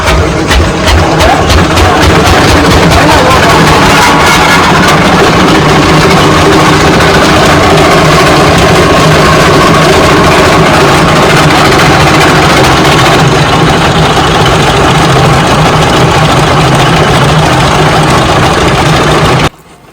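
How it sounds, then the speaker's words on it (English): A palm kernel grinding machine in a traditional Nigerian palm oil operation runs continuously with a very loud, heavy mechanical roar and vibration, close by, steady throughout before cutting off abruptly at the end. "So they load all the freshly cooked palm kernel by the machine ready to grind"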